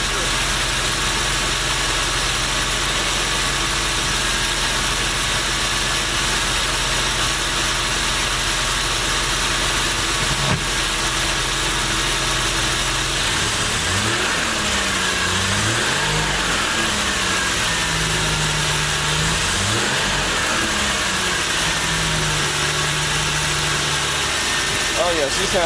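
Truck V6 engine swapped into a MerCruiser ski boat, running steadily in gear with a loud continuous drone and low rumble, its pitch wavering and rising in short surges toward the end.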